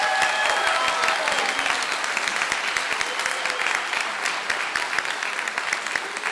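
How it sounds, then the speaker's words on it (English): Steady applause from a school chorus concert audience, many hands clapping continuously and fairly loud throughout. "Let's give them another round of applause"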